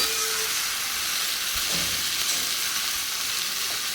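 Banana flower chop filling, cooked with raisins and ground spices, fries in a pan with a loud, steady hissing sizzle, broken by a few soft scrapes as it is stirred.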